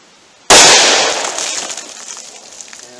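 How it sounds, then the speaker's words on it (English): A single loud .357 Magnum revolver shot with a Federal Hydrashok round, fired single action into water-filled test jugs outdoors, a sharp blast that rings out and decays over a few seconds. "I'm gonna go with the 357 Magnum first, single action again. This is gonna be probably pretty potent round here."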